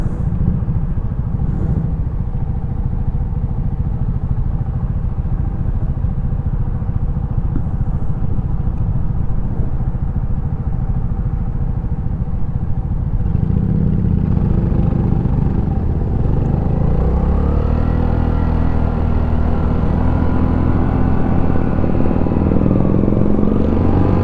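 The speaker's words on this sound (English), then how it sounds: "overall, this is a pretty fun bike to ride" A motorcycle fitted with aftermarket carburetors is ridden, its engine a loud, continuous close-up drone that holds steady and then shifts in pitch during the second half.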